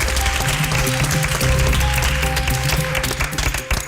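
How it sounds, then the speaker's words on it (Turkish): A TV contest studio audience applauds the winning red team, a dense, steady wash of clapping that stays loud throughout, with background music tones underneath. "Kırmızı takıma kocaman bir alkış alıyorum."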